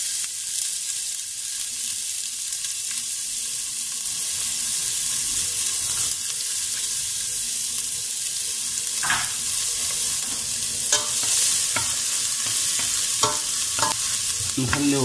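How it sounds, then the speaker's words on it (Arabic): Garlic and onion frying in a pan with a little ordinary oil, a steady close sizzle with occasional stirring scrapes and clinks, no voices. "نخليوها تشحر مزيان"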